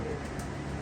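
Rampuri pigeons, a breeding pair offered for sale, give a soft, brief coo against a steady wash of background noise.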